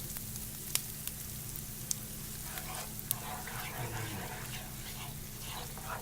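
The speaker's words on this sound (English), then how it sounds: "Now to this we're going to add heavy cream." Heavy cream poured into a hot pan of butter for Japanese-style spaghetti, giving a steady broadband sizzle with a low hum underneath and a few small clicks, no talking.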